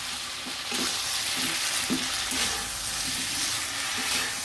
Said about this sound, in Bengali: এবার ভালো করে কষিয়ে তারপরে গরম জল দিয়ে দেবো।